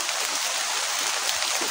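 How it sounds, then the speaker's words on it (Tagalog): Heavy rain pouring down as a dense, steady hiss with no breaks, close and fairly loud, no voices over it. "ang lakas pa naman ng ulan"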